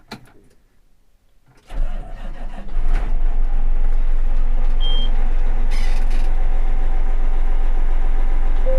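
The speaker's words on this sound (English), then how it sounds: "I'll just start it up here." A John Deere 9570RT tractor engine cranks over after a quiet moment, catches and settles into a steady, loud, deep idle that continues to the end, with a brief high electronic beep partway through.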